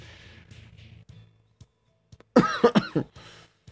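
Several short harsh coughs come in a quick burst of three or four near the microphone, after a stretch of faint background sound from a Free Fire gaming stream.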